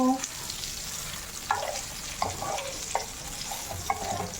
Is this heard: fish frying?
yes